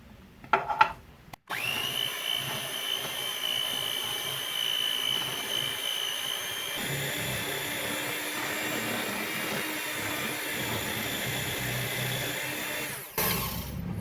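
Electric mixer beating a cheese ice cream mixture of cubed cheese, a steady whirring motor hum after a brief start-up clatter, running alone until it stops near the end.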